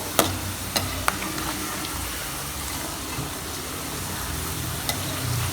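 Masala peanuts deep-fry in hot oil with a soft, steady sizzle and bubbling, broken by a few sharp little pops and clicks, heard close and fairly quiet.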